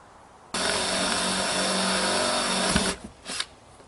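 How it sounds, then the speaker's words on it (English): A power drill bores a hole through the body of a fifth-wheel travel trailer during a rear-view camera install, running loud and steady for about two seconds before stopping, followed by a couple of softer bumps. "Well, there, I got the hole drilled."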